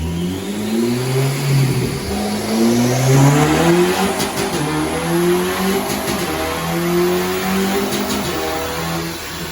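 A Honda Civic FN2 Type R with a custom Ecutek map and Skunk2 inlet revs hard on a dyno, its engine climbing through rising pitch sweeps with flat-foot shifts, loud and close.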